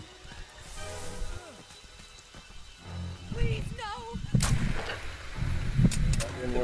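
Gunfire in Friday the 13th The Game: a few sharp, separate shots over several seconds, mixed with game effects, footsteps and people talking throughout.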